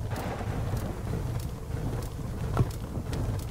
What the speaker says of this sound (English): Yes, it's like a storm outside.